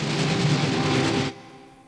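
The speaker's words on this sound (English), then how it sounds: "Yet today, these trains still run the rails." A locomotive-hauled passenger train running on the rails gives a loud, steady rumble with a faintly rhythmic pulse, then cuts off abruptly, leaving only a low fading hum.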